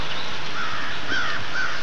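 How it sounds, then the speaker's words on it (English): Crows caw repeatedly in a rainy outdoor setting while a flock gathers for a morning feeding frenzy, the harsh calls rising over steady background hiss, moderately near. "A lot of birds here this morning. They're having a feeding frenzy."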